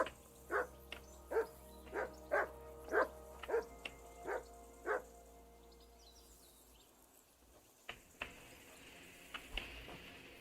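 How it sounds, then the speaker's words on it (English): A dog in the medieval video game Kingdom Come Deliverance 2 barks about eight times in a steady, evenly spaced rhythm. The barks are fairly close and clear, then give way to quiet background ambience with a few faint knocks. "Call off that damn dog before he wolfs down the last of our mates."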